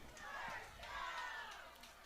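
A high school football crowd in Portsmouth shouts together to call a first down, a faint, distant and drawn-out chorus of voices rising and falling over a couple of seconds.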